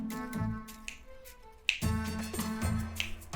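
Crisp finger snaps, a few sharp isolated clicks spaced apart, heard over a soft musical background in a quiet indoor comedy setting.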